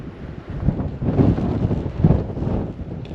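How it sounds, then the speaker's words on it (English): Strong gusts batter the microphone outdoors at Haleakala. The blustery roar is loud and low, surging in waves for a few seconds, and no voices are heard over it. "Having a lot of trouble with the wind."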